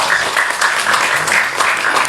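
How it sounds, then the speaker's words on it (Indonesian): An audience at a closing ceremony and media competition awards event claps for MTech, a short burst of steady, fairly loud applause with rhythmic pulses of clapping. "Tepuk tangan buat MTech ya."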